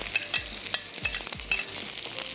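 Sliced onion sizzling on a hot sizzler platter, a steady close crackling hiss with a few soft scraping stirs and small thumps as pieces are spread out.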